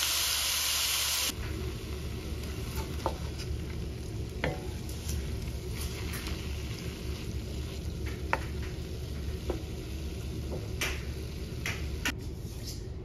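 Chicken breast cooks in a pan with a constant soft sizzle and hiss, dotted with small pops and crackles that continue throughout.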